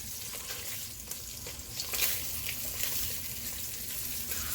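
Meat searing in a pan for jambalaya, a steady close sizzle and crackle that runs throughout with occasional stirring scrapes and no talking.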